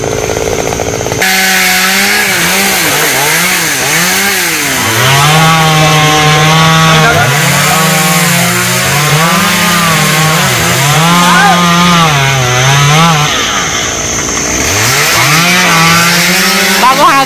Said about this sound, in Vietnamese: đang cưa mấy cây nguyệt quế bỏ